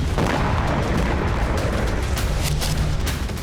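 A drone-strike explosion sound effect blasts loud and close, a dense, roaring boom that rumbles on through the whole few seconds before easing slightly at the end, with no voices over it.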